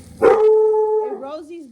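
A dog lets out one drawn-out, tonal bark that stretches into a short howl-like cry close by, followed by a fainter wavering whine.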